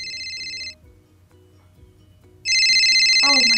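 A mobile phone ringtone plays loud and close as a bright repeating electronic melody, cuts out for nearly two seconds of low background sound, then resumes just as strongly.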